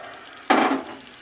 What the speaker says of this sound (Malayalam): ഇനി നമുക്ക് അതിനകത്തേക്ക് ആപ്പിൾ വിനാഗിരി അങ്ങ് ഒഴിച്ചു കൊടുക്കാം.